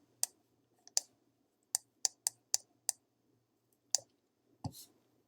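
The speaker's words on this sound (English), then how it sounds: "no sound except my mouse clicking" A computer mouse clicks crisply about nine times at an uneven pace in a quiet room, the sharp close clicks spaced by short pauses, with a soft thud near the end.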